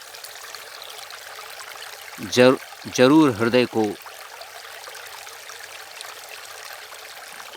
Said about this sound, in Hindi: आप इस जल की कलकल करती हुई अविरल धारा की आवाज़ को सुन रहे हैं।